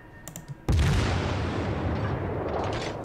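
Battleship main guns fire in World of Warships from the Japanese battleship Myogi, a single heavy booming salvo after a few faint clicks, with a long rumbling roar that slowly decays.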